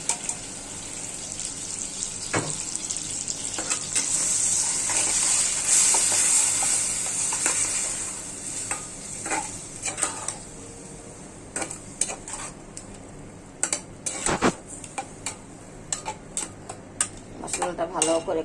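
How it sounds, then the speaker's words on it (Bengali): Spice paste of turmeric, chili, salt, onion paste and green chili fries in a pan for a prawn curry, with a steady close sizzle. Stirring and clinks of the utensil against the pan come through, and the scraping grows more frequent toward the end. "মশলাটা ভালো করে কষানো হোক"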